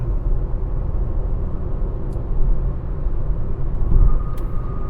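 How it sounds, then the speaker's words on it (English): A 2017 Chevrolet Cruze hatchback drives through traffic, a steady low road and engine rumble filling the cabin from start to finish, with the drone swelling slightly near the end as it passes a sand truck. "I'm ripping through traffic right now, and it's decent."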